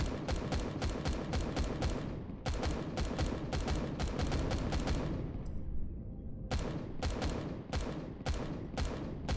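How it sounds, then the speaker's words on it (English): Rapid bursts of automatic gunfire in the space game Empyrion, set on an ore-covered asteroid, sharp repeated shots in fast strings, broken by a short lull before another burst resumes. "What the hell are you shooting at?"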